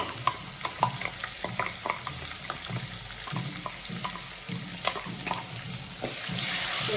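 Freshly ground mint paste fries in hot oil with a soft, steady sizzle, punctuated by repeated close stirring taps and scrapes of a spoon, and a rush like running water rises at the end.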